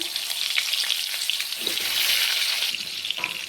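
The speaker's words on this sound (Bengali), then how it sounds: "একইভাবে বাকি পটলগুলোকে আমি ভেজে নেব।" Pointed gourd (potol) pieces fry in hot oil for a dudh potol dish, giving a steady, bright, close sizzle with faint bubbling and a few soft stirring touches throughout.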